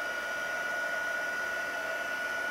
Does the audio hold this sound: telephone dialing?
no